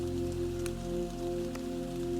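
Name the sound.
light rain dripping on leaves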